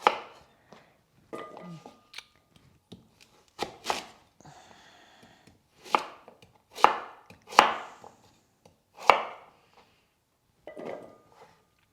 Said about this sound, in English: So I cut them in half, and then I do small pieces because they cook a little faster